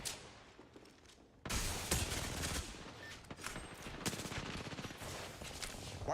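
Video game gunfire erupts suddenly after a quiet start, loud rapid bursts of automatic shots and fusillade continuing densely to the end.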